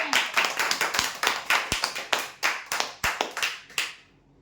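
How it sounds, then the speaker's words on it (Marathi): A crowd gives a burst of loud applause at a prize draw, dense rhythmic hand claps that keep going for about four seconds, close and loud, then stop abruptly. "जोरदार टाळ्या"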